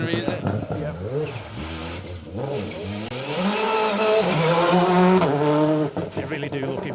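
A rally car blasts along an asphalt stage at the Down Rally, its engine rising and falling through sharp gear changes as it passes close, with commentary voices underneath.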